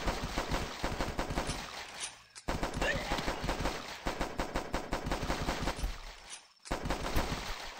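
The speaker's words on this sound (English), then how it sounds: "Shoot that pistol faster." Pistol fire in a zombie survival video game, with rapid shots in quick succession that run almost continuously, broken by two short pauses.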